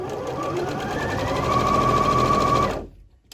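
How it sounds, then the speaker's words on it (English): A Bernette B38 sewing machine stitching fabric with an edge stitch foot, running as a steady, close whirring hum for nearly three seconds before stopping abruptly. "And so here we're able to get a nice, beautiful, close seam. Perfect. And such a great stitch with this Bernette."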